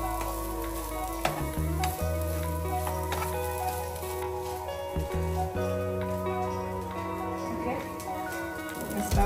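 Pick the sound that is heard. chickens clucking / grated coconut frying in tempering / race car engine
grated coconut frying in tempering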